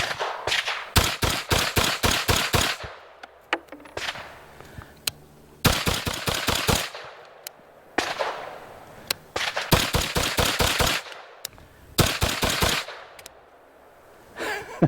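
An OTR rifle fires on an outdoor shooting range in Wagram, North Carolina, in loud rapid strings of shots with brief pauses and echoing tails between bursts, close to the listener.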